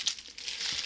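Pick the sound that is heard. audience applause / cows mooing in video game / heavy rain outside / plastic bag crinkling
plastic bag crinkling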